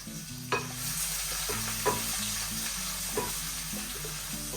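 Onions and spices for a chicken curry fry in a pan, with a low steady sizzle under a few spatula strokes scraping the pan at irregular intervals. No one speaks.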